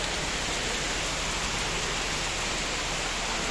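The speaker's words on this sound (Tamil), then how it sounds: "மழை வேற வந்துருச்சு" Steady rain falls during an outing with friends, a dense, even hiss that holds without a break from start to finish, with no voices over it.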